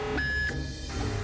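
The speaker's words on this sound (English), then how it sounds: "Imminent impact alarm." Cartoon imminent-impact alarm aboard a ship, heard as a loud steady electronic tone that steps up in pitch partway through and holds for about a second.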